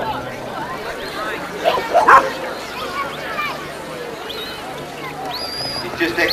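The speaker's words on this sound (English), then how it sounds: "He's just exercising the dog," A sheepdog working lambs at an outdoor sheepdog demonstration gives a few distant barks and yips around the middle, under background voices and steady wind noise.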